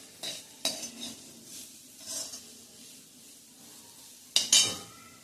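Vegetables being sautéed in a pan for vermicelli upma, with a few soft scraping stirs and a brief louder clatter of spoon against pan near the end over a faint sizzle.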